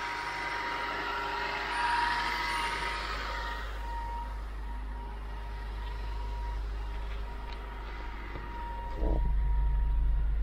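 A Honda Accord engine idles at elevated revs with the hood open, a steady close low drone that holds throughout, then grows slightly louder and heavier near the end.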